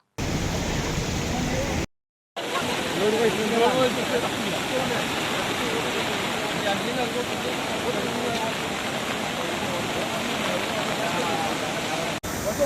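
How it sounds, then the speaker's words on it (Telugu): Steady, loud rushing water from overflowing streams and heavy rain in Kamareddy district, like a torrent or downpour, continuous with a brief dropout near the start. "పొంగి పొండుతున్న వాగులు వంకలు తగ్గని వర్షాలు"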